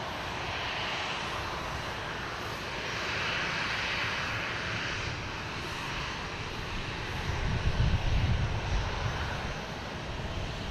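An American Airlines jet in retro livery lands at Boston Logan Airport, a steady far-off engine roar that swells briefly toward the end, with no voices.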